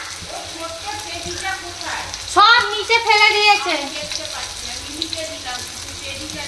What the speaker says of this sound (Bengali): ঢ্যাঁড়স ভাজা, মাছ ভাজা, আলু ভাজা হচ্ছে